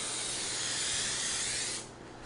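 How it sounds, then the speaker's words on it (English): Cooking spray hisses steadily from an aerosol can onto a casserole pan, one continuous close burst of about two seconds that cuts off abruptly. "We're going to spray our pan."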